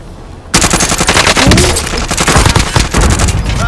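Sustained loud automatic gunfire in Call of Duty Modern Warfare, kicking in sharply after a quiet half second and continuing as dense, rapid rattling bursts through to the end.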